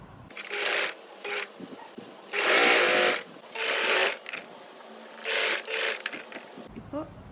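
A sewing machine stitching a blouse lining runs in several bursts of fast whirring, each a second or so long with short pauses between, close and loud.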